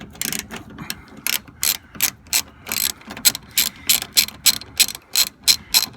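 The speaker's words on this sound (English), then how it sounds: "I'm going to be using a T25 Torx bit to get these out." Rapid bursts of a ratchet turning a T25 Torx bit to remove fasteners from the front door of a 2008 Cadillac Escalade during an actuator replacement, a dozen or so close clicking strokes in a steady rhythm with no talking.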